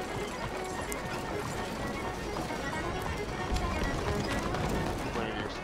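A horse gallops with rhythmic hoofbeats inside a video game, loud and continuous, mixed with game noise beneath the player's commentary.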